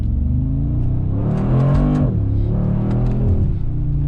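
Mercedes-AMG G63 engine close by, giving a deep rumbling idle that swells into two throaty revs before settling back to a steady growl.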